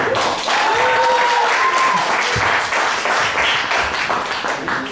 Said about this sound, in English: give us a round of applause for C.Z. Storey